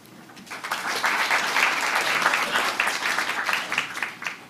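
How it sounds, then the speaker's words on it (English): An audience breaks into applause after a live reading of the Bill of Rights, the clapping swelling quickly from quiet to a full, sustained roar and then easing slightly near the end. "Maybe we could hold their applause till they're all done"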